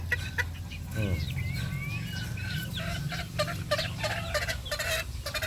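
Young chicks peep and cluck busily at close range while being hand-fed rice, with chirps overlapping over soft rustling throughout.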